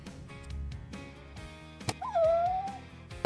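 A Pomeranian whimpers and gives a few short yips while eating steak, high thin whines rising and falling close up, with soft chewing and clatter around them.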